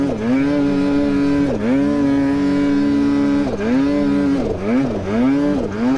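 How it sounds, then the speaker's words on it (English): A snowmobile engine revs hard on a snowy trail, a loud, close, buzzing drone that dips and climbs several times as the throttle is blipped and the clutch back-shifts. "It back shifts and revs out so fast."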